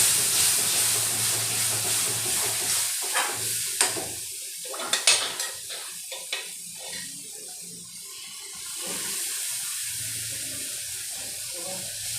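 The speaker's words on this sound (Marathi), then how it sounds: "त्यात आपण रस्सा घालतो थोडासा आणि त्यात मसाला छान परतून घ्यायचा आहे" Masala sizzles loudly as it is sautéed in mutton broth in a pan, with steamy hissing, several sharp scraping and stirring clicks in the middle and a renewed steady sizzle toward the end.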